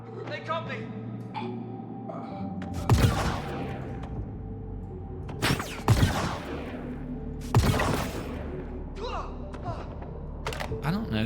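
Gunfire in Star Citizen during a Project Hyperion mission: a few heavy, sharp bursts spaced seconds apart over a steady low hum. A voice talks faintly underneath.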